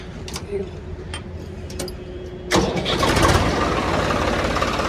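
A 2013 Swaraj 855 tractor cranks on its self-starter with a few clicking, ticking sounds, then the diesel engine catches at mid-clip and settles into a loud, steady, close-up idle.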